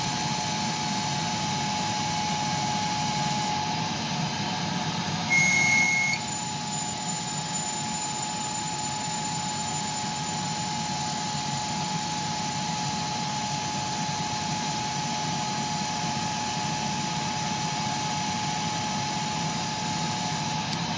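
A CNC lathe cuts stainless steel valves with a continuous machine drone and a high whine, throwing long stringy chips; the sound stays loud and steady, with a brief shift partway through and no talking.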